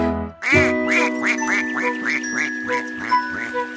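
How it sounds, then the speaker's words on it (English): Cartoonish duck quacking in a children's nursery rhyme about five little ducks, a rapid run of about eight nasal quacks over a tinkling musical backing. "Mother Duck said quack, quack, quack, quack"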